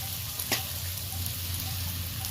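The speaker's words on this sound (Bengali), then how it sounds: "চিংড়ি মাছ আর আলাদা করে ভাজার দরকার নেই, একই সাথে তুলে দিলাম পেঁয়াজ কাঁচা লঙ্কার সাথে।" Shrimp frying in hot oil with onion and green chili for a neem recipe, a steady close sizzle throughout with one brief clatter from stirring.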